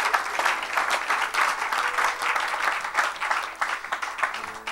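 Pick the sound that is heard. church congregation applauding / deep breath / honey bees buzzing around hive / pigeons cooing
church congregation applauding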